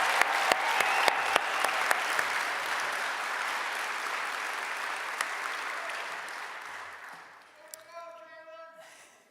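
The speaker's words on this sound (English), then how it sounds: "let's give a big round of applause for Jalen Blakes." Sustained applause from an awards ceremony audience, a dense wash of clapping with a few sharp nearby claps early on, tapering off toward the end as a voice begins speaking.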